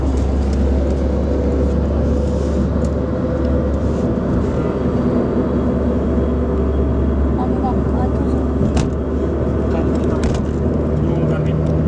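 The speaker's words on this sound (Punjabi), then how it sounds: "ਆਹ ਟਰੈਕਟਰ ਕੀ ਹੈ" A big tractor drives along a road in Melbourne, its engine giving a constant loud low drone throughout, with people talking over it.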